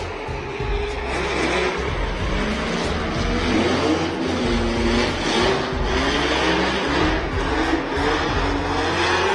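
Drift car engines roaring during a Turismo Drift competition run in Nashville, loud continuous revving with fluctuating pitch and tire noise, heard from trackside without talk.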